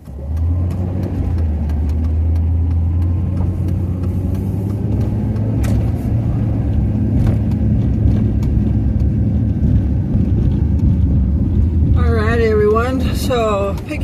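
A car cruises along on a drive home, its steady low engine drone and road rumble loud and close throughout, with a person talking over it near the end.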